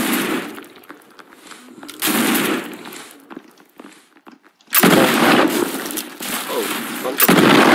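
Rapid bursts of shotgun fire in a zombie first-person shooter game, loud blasts in clustered volleys separated by quieter gaps, with occasional speech mixed in.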